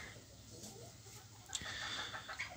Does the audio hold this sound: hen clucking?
yes